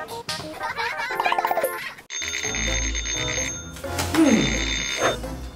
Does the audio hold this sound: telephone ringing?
yes